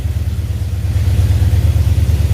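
A 1970 Dodge Charger's rebuilt 318 V8 runs close by, settling into a low, even rumble with a steady rhythmic pulse and no other sounds over it.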